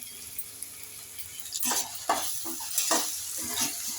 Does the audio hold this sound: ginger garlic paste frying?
yes